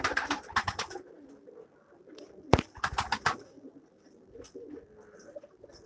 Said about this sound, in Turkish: Bunlar güvercindir.